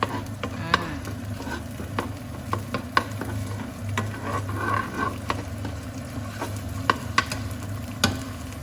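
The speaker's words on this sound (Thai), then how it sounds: "เราก็ค่อยๆผัดไปอย่างเงี้ยค่ะเนาะ ค่อยผัดไปแบบเนี้ย" Curry paste stir-fries in hot oil, a soft continuous sizzle broken by frequent scraping spatula strokes against the pan, close and moderately loud, with no voices.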